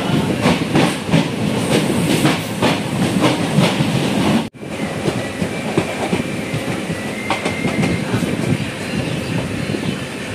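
The Coimbatore-Madurai Intercity Express passenger train rolls steadily along the rails with rhythmic clacking and hissing, loud and close throughout.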